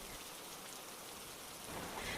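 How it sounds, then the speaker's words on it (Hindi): Heavy rain pours steadily onto surfaces in a village on a cold, stormy night, a dense continuous hiss with no voices, growing slightly louder at the end. "तिकोरा गांव में तेज बारिश हो रही थी।"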